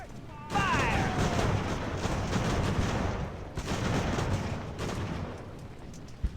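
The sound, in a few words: gunfire in naval battle video game Ultimate Admiral: Age of Sail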